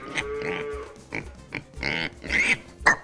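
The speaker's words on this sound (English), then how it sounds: "Pigs are pretty dirty animals." Pigs grunting and snorting at feeding time, several short rough bursts in an uneven rhythm, close and fairly loud with no talk over them.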